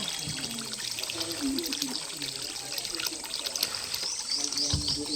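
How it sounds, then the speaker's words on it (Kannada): Water pours steadily from a tap with a continuous trickling splash, fairly close, while a voice speaks softly underneath. "ನೀರು ಬರ್ತಾ ಐತೆ ಗೈಸ್"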